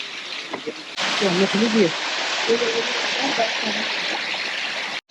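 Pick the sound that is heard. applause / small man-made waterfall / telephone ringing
small man-made waterfall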